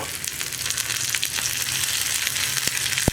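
Dried red chillies and curry leaves sizzle and crackle steadily in hot oil in a pan, with faint stirring clicks and a sharp tap at the end, for a Kerala pumpkin, tomato and ivy gourd curry.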